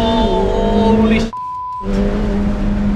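Ferrari F8 Spider with its turbocharged V8 pulling hard on a mountain road, a loud close engine drone that drops out briefly at a gear change before surging back, with a man's excited exclamation over it.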